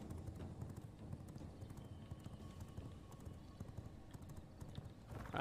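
Horse hooves clip-clopping in a competitive PvP video game, a steady fast run of hoofbeats close by, repeating evenly throughout with faint background texture.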